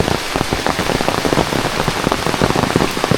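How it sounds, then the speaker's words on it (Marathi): Heavy monsoon rain pours down at a house in rural Konkan, a dense, continuous patter of drops hitting surfaces, loud and close with no voices. "बघा कसा पाऊस पडतोय"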